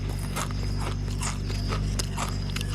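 Pizza-flavored Doritos chips are crunched and chewed close to the microphone in a series of sharp, irregular bites over a constant low background hum.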